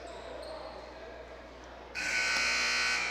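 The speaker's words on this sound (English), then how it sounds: "That was a scary loud buzzer." A loud electronic arena buzzer sounds abruptly and holds steady at a high school basketball game in a gym, following crowd and court noise.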